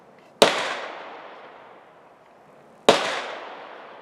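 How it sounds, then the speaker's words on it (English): Two loud, sharp gunshots at an outdoor shooting range in Murphy, North Carolina, each with a long ringing decay, spaced about two and a half seconds apart at moderate distance. "those guys are having a good time up there shooting away"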